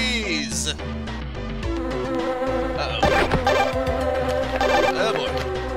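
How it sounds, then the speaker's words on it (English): Killer bees in the video game Jazz Jackrabbit Doom give off a steady insect-like buzz, mixed with constant game music and effects throughout. "More bees."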